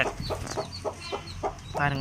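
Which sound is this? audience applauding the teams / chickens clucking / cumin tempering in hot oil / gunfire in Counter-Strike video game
chickens clucking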